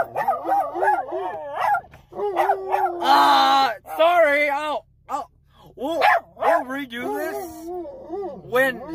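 Several dogs bark, yip, howl and whimper indoors at close range in repeated excited bursts, with a person talking briefly between them.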